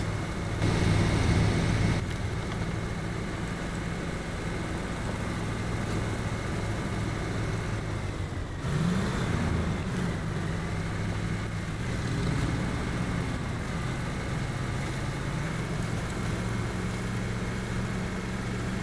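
An International Scout 800 pushes through mud in high gear in SnowRunner, its engine a steady, droning hum that holds throughout with slight surges in load and no talk.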